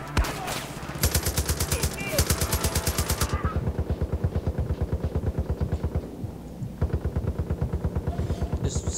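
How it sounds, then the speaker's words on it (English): Rapid machine-gun fire from the video game Far Cry 5 rattles out in long, evenly spaced bursts, loud and close, with a short pause before the firing resumes. "I'll take the machine gun."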